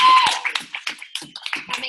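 Audience clapping at a team training session, a short spatter of uneven claps from a small group close by, with a voice at the start.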